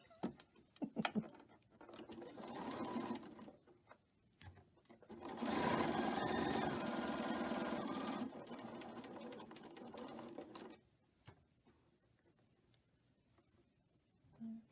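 A sewing machine stitches abutted quilt pieces for a star-pattern quilt, running in a steady close whir for several seconds. Shorter runs and fabric handling come before and after.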